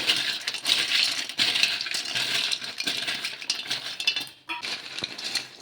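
Homemade oats kurkure being tossed with chaat masala in a bowl, a steady dry rattling and clinking of crisp pieces against the bowl, close and continuous, with no talking.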